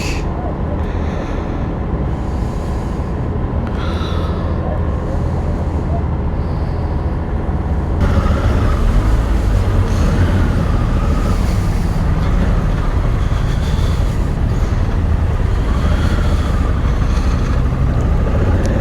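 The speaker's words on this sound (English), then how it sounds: "It's actually a boat crossing." A steady low engine drone and rushing water of a boat crossing a river into France, growing louder and fuller partway through, with no one speaking.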